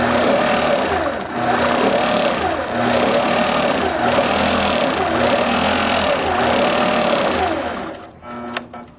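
Quilting sewing machine with Quilt Glide stitch regulation running continuously at 13 stitches per inch, a steady loud mechanical whir and rapid needle chatter that holds for about eight seconds before stopping, followed by a few faint clicks.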